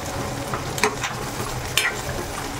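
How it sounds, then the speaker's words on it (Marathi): Capsicum stir-fries in a pan over a low flame, giving a soft, continuous sizzle broken by a couple of sharp scraping stirs, quiet and close with no voices. "आणि हे परतत असताना आपण गॅस एकदम कमी ठेवायचा आहे, कारण जास्त गॅस ठेवला तर आपली जी शिमला मिरची आहे ती एकदम मऊ होऊन जाईल."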